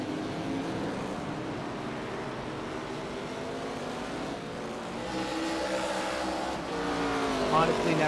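Stock cars racing at Portland in a virtual ARCA racing game, engines droning steadily and rising in pitch as the cars pass, with tire noise, under continuous commentary.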